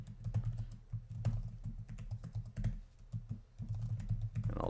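Computer keyboard typing for Cisco switch configuration commands on a networking lab, rapid clattering keystrokes in quick irregular bursts, close and clear with no talking.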